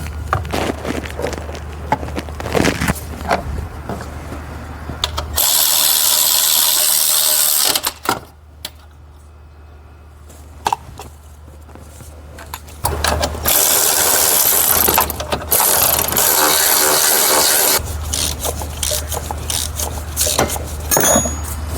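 Tools fitting a motor mount on a Chevrolet Cruze during engine replacement: bursts of power-tool whirring and ratcheting, with metallic clicks and rattles between them, close and loud.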